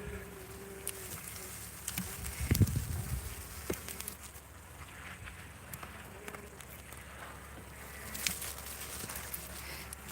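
Honeybees buzz during a live hive removal with a battery bee vacuum, a steady faint drone running throughout with a few louder knocks and rustles, as a voice talks in the background.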